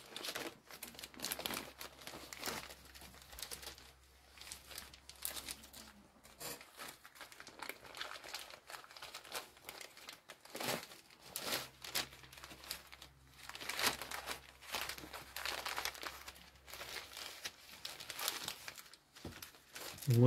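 Fabric for a homemade food or bear bag is folded over into two layers, making faint, close crinkling and rustling in scattered bursts with soft pauses between.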